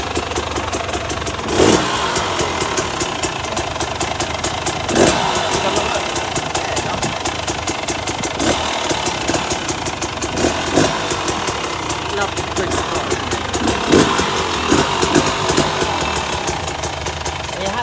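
A 2018 KTM 300 EXC TPI motorcycle engine idles as it warms up, giving a steady, continuous running sound with a few louder bumps, while people talk nearby over it.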